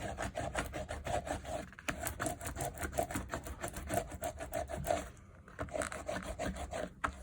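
Rhythmic rubbing and rasping of a roller pressed back and forth over a freshly glued wooden journal cover, squeezing out excess glue, with steady close strokes and a brief pause partway through.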